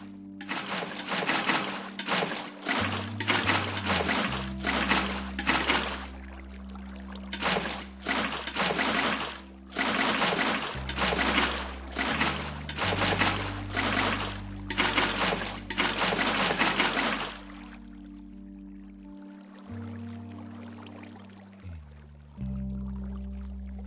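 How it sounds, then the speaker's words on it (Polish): Water pours and flows across blocks in a Minecraft build of server racks, heard as repeated loud rushing surges over a steady low tonal bed, then fading to a quieter wash. "Zalejemy teraz to wszystko wodą."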